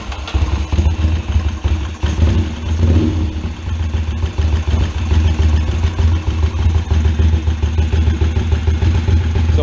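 A Ducati TT replica motorcycle engine with a megaphone muffler runs at a loud, steady idle close by, throbbing and rumbling with a slight clatter for the whole stretch.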